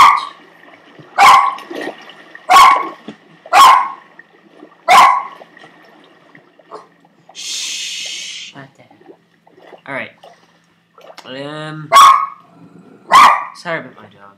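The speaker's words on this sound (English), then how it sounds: "Sorry about my dog. She's kind of barky." A dog barks close by in spaced single barks, with a brief noisy burst and a short spoken word in the middle, then more barks near the end.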